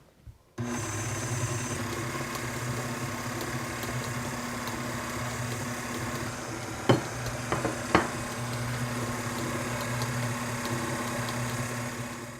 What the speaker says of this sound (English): I'll gradually add the milk while the mixer is on